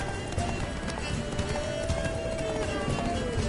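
Hoofbeats of the horse Roach galloping in The Witcher 3 video game, a fast, continuous clatter under wind and ambient noise, with a voice faintly present.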